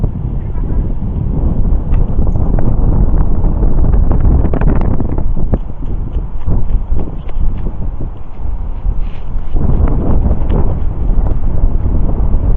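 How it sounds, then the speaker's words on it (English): Strong wind at a lake in Tawakoni State Park buffeting the microphone in a steady, low roaring rush, gusting harder at moments, with a voice faintly underneath. "It is a little windy here today, a little cool."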